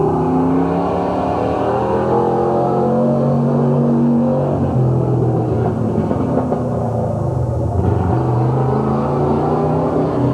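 Race car number 27, driven by Gary Hoopengardner at Midvale Speedway in 1987, gives a loud, steady engine drone whose pitch rises and falls as it runs, blended with other cars on the track.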